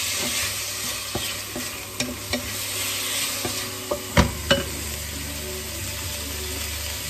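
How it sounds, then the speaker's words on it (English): Turkey strips fry in a pan with a steady, close broadband sizzle, broken by a few sharp clicks and scrapes of a utensil moving the meat around; no one speaks. "Add the turkey strips, cook on the side"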